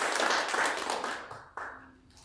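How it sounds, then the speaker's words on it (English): Small audience clapping for volunteers at a spiritual center service, fairly quiet and brief, fading toward the end with a couple of sharper claps. "Let's go ahead and give everybody a big round of applause."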